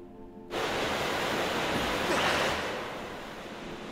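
Flowing water in the video game The Legend of Zelda: Skyward Sword, a sudden broad rushing wash that starts abruptly and holds steady, loud and close, easing slightly near the end, with no talking.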